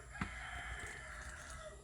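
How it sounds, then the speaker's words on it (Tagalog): A rooster or chicken at a rural yard, a faint brief call heard at a distance over low steady background noise. "Ano siya mga labs ang akong kinakusgang manok."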